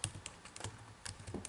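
Quick, soft clatter of keys being typed on a computer keyboard, a short burst of irregular taps close by.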